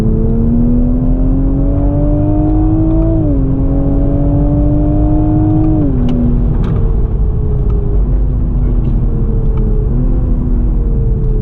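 A new Toyota GR Supra laps a race circuit, its engine droning loud and steady with repeated pitch climbs and drops as it accelerates and shifts, faint clicks over the rumble.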